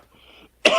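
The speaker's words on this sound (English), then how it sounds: "excuse me, I still have a bit of a cough." A single sharp cough bursts out after a brief soft murmur, loud and close to the microphone.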